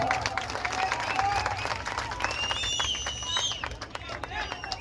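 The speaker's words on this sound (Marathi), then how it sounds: "टाळ्या टाळ्या वाजायला पाहिजे टाळ्या" A crowd claps and cheers at a Dahi Handi festival held in memory of a local figure. Lively, uneven applause mixes with whistles and shouts. Scattered voices and outdoor bustle carry through it.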